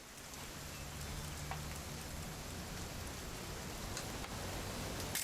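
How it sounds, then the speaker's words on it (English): Steady rain falls in the video game What Remains of Edith Finch, a constant even hiss with scattered drop taps and a faint low hum beneath, moderately loud throughout with no talk. "It's gonna rain the whole weekend,"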